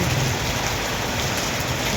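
Heavy rain pours down steadily in a dense, unbroken hiss, loud and close, with no voices or other sounds breaking through.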